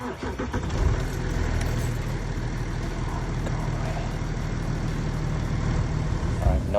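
An Audi Q7, bought as the cheapest in the country and since repaired, starts up close by and settles into a steady, loud idle with a low rumble that lasts throughout.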